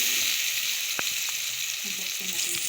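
Onions, ginger and garlic frying in a pan, a steady loud sizzle with a few faint clinks of a utensil.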